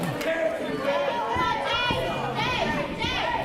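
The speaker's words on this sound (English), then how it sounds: "this crowd here in Tifton, Georgia, chanting Jay, Jay, Jay, Jay" Crowd at a wrestling event in Tifton, Georgia, chanting a name in unison, loud and close with overlapping voices and cheering.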